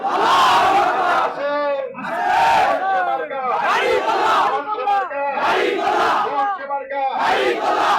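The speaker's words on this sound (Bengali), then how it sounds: "আমার সঙ্গে স্লোগান ধরুন, নারায়ে তাকবীর, নারায়ে তাকবীর, নারায়ে তাকবীর" A large crowd of people at a Jamaat-e-Islami rally chanting the slogan Naraye Takbir in loud call-and-response, rhythmic bursts of massed voices repeating several times.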